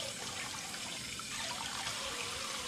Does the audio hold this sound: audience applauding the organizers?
no